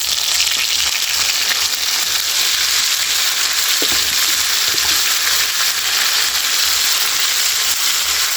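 Eggplant, added to an okra dish, fries in a pan with a loud, steady, close sizzle that runs unbroken throughout, with a couple of faint stirring knocks.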